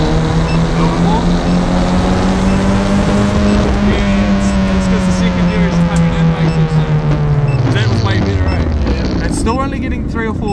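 A turbocharged Toyota Corolla engine revs loudly and steadily as more throttle is added, its pitch rising slowly and then dropping away near the end, with voices talking over the drone.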